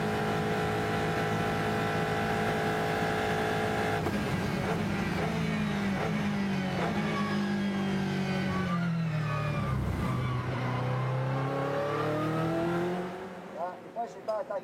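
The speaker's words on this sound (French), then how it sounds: "La Toyota numéro 7, Mike Conway, passe également." The No. 7 Toyota prototype, driven by Mike Conway, passes during free practice at the 2020 24 Hours of Le Mans, its engine note rising and then falling away, with race commentary talking over it.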